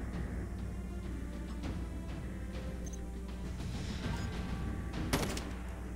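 Gunfire in the mobile game Call of Duty Mobile, a steady dense rattle of shots under a constant game soundtrack, moderately loud with a brighter burst near the end.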